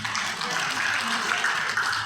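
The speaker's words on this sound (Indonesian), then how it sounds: "dan tepuk tangan untuk beliau" Steady applause from an audience for the mayor of Tegal at the IWAPI Central Java regional congress, a dense, even wash of clapping for about two seconds that may sit under a speaking voice.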